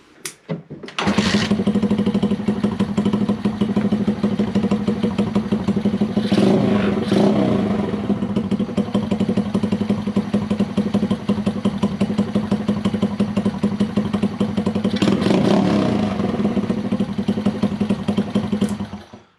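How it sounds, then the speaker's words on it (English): A Honda Chaly 4MINI small motorcycle starts up and runs at a steady, loud, close idle, its engine note chugging evenly with a couple of brief revs. "I will start the bike and then see if it's actually perfect or not"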